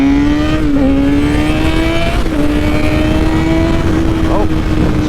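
A motorcycle riding fast, its engine and muffler droning loudly and steadily, with slight pitch dips as the rider shifts and eases the throttle.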